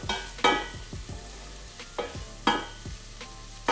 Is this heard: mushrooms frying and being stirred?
yes